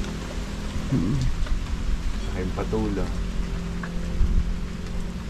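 Rain falls steadily on a farm plot with vegetable plants, a constant hiss that runs under a person talking throughout.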